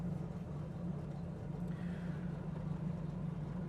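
A 1969 Chevrolet Camaro Z/28 engine idles steadily, a smooth, even low rumble heard close up and alone, with no stalling or surging.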